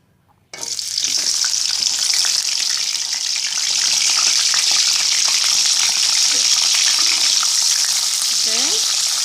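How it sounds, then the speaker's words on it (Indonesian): Spice paste frying in hot oil for a coconut-milk vegetable dish: a loud, continuous sizzle starts abruptly and carries on, with faint stirring knocks and scrapes and no speech. "Kita akan goreng bumbu-bumbu yang tadi yang sudah saya sebutkan."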